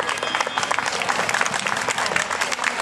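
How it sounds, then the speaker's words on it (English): A crowd applauds steadily for a school pipes and drums band at an outdoor cherry festival, dense clapping sustained at an even level throughout without any talk. "Yeah, round of applause."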